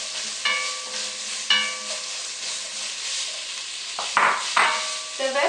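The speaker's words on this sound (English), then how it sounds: "So put the carrot inside saute with it." Carrots sauté in a pan for a shrimp and tofu curry, giving a constant soft sizzle and hiss broken by a few sharper stirring scrapes near the end.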